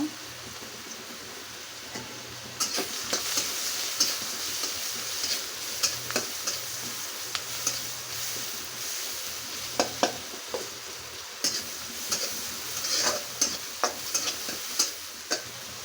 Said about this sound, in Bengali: এখন আমি এই তেলে কিছু পেঁয়াজ রসুন কুচি রেখেছিলাম ছেড়ে দেবো ভেজে নেওয়ার জন্য